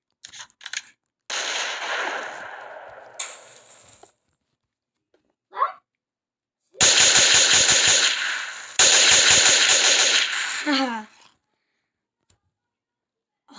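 Loud rapid bursts of automatic gunfire ring out in a fictional comedy-series shooting, with clipped volleys separated by stretches of silence.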